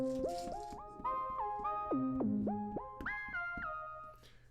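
Dry Vectra synthesizer patch with no onboard effects, playing a melodic line of sustained notes that glide from pitch to pitch, rich in harmonics, clear and close with no talking.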